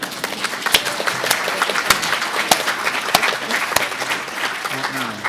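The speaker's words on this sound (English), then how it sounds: "Give yourselves a round of applause." An assembly hall audience gives a sustained round of applause, with dense continuous clapping from many hands and a few louder individual claps standing out, steady throughout with no talk over it.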